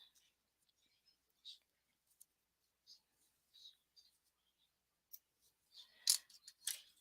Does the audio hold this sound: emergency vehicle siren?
no